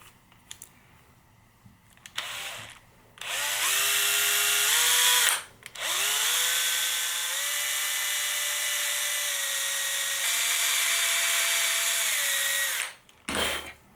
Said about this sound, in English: So let's drill that.